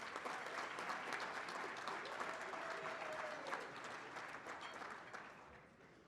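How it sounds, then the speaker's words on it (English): An audience applauds at a multi-chamber of commerce economic outlook event, a broad, steady roar of many clapping hands that carries on and gradually tapers toward the end. "Give them a great round of applause."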